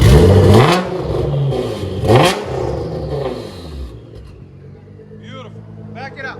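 A sports car engine, in a comparison of a Nissan GT-R NISMO, a Shelby GT500 Mustang and a Corvette Stingray, revs hard twice in loud bursts, then settles to a quieter idle while someone talks briefly.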